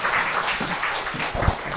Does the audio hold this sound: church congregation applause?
yes